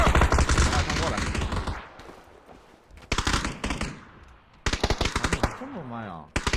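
Machine gun fire in a video game comes as loud, dense bursts of rapid shots in several volleys separated by quieter gaps, mixed with excited voices talking and shouting.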